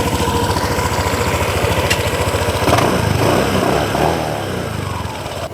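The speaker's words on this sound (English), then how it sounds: "It is time to take the bike out for a spin and see how she behaves. Acceleration." A Honda PCX150 scooter engine revs up steadily as the scooter accelerates, a continuous close, loud motor drone that rises and shifts in pitch with no talk over it.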